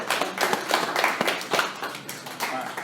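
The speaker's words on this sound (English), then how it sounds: "Give Joe a round of applause." An indoor audience at a sales talk gives a short round of applause, a dense patter of many hands clapping close by and fading slightly over about three seconds.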